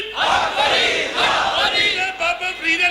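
A large crowd at an Islamic religious gathering chants religious slogans together in loud, close, massed voices that rise and fall in rhythmic bursts.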